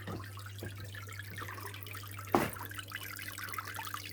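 Water from a hang-on-back aquarium filter trickles and splashes steadily under a constant low pump hum, with one brief louder splash partway through.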